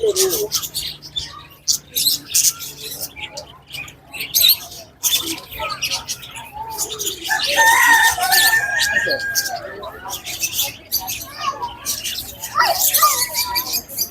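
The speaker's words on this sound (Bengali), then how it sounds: "পাখির কিচির মিচির শব্দ সবাইকে বিমোহিত করে।" Many caged birds chirp and squawk in quick, overlapping bursts, close and lively, with occasional sharper calls and a person talking at times in between.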